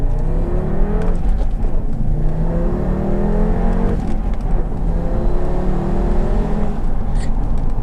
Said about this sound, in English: we'll do a small pull from first gear, trying to compare it to the way the 370 accelerates